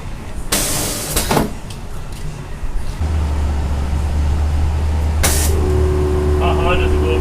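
Air suspension on a Mazda Speed 3 fitted with an Air Lift kit lowers the back with a loud hissing release of air, sharp bursts followed by a sustained low hum, while people talk nearby.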